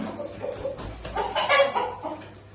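A rooster clucks in a short run of throaty calls, fairly close, with low background hum and no talking.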